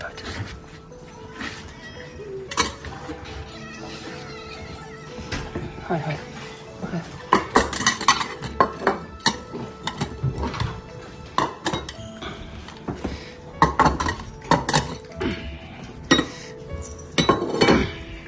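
Dishes and cutlery clink and clatter intermittently, sharp bright knocks scattered over a steady background with people talking.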